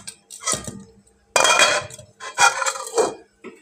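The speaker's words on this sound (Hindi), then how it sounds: "बर्तन रख लिए हैं पास" Metal utensils are set down in a village kitchen while sehri is prepared, giving a string of close, ringing clinks and clatters in irregular bursts with short pauses between them.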